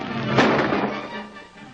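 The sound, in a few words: gunshots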